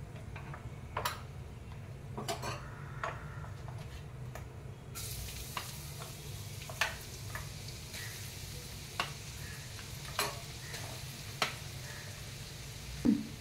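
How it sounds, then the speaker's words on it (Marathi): Grated carrot for gajar ka halwa frying in ghee, a quiet steady sizzle broken by scattered sharp ticks and occasional stirring scrapes, with no voice. "हे किसून घेतलेले जे गाजर आहे ते मी आता तुपामध्ये चांगलं परतून घेत आहे"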